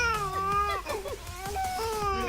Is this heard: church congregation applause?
no